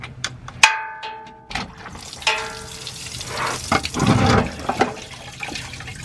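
Diesel fuel splashes and trickles out of a Ford F250 6.7 diesel fuel filter during replacement, close liquid gurgling and dripping with occasional metallic clinks, swelling into a heavier pour midway before easing off.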